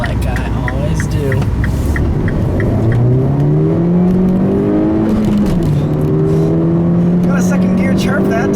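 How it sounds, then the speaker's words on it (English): Hard acceleration in a Mini with 50k miles on it, the engine note rising loud and near through the gears over several seconds with a brief dip at a shift, while a person talks over it. "I'll leave you guys with a nice little acceleration here"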